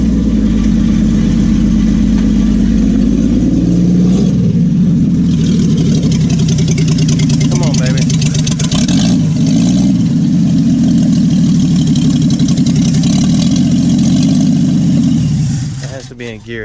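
A Willys truck engine runs loud and close for the whole stretch, idling slightly rough and rising in a few revs before cutting off abruptly at the end.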